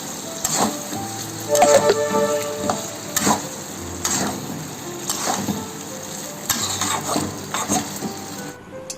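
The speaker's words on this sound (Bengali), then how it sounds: "এবারে ফ্রাইড রাইস করার জন্য একটু এই কাজু বাদাম কিশমিশ এর একটু ভাজা চলছে" Cashew nuts and raisins fry in a pan for fried rice, with soft sizzling under repeated scraping and stirring strokes and the occasional clink of a utensil against the pan, close and steady throughout.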